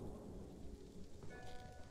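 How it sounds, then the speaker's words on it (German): An approaching thunderstorm in the video game Ghost of Tsushima: steady, heavy rain hisses over a low, continuous rumble of thunder, with no voices. "Doch ein Sturm zieht auf."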